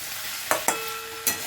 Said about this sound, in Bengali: কিছুক্ষণ এটা কষিয়ে নেব